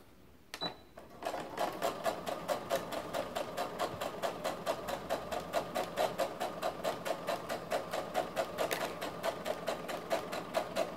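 A sewing machine back stitches a bodice seam for a Vogue 8825 dress, running in steady rapid bursts of needle strokes after a brief click at the start, loud and close with no talk.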